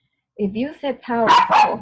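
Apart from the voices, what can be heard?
dog barking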